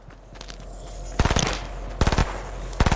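Gunfire in a video game comes in three short automatic bursts of several rapid shots each, spaced about a second apart over a faint background hum, with no talk.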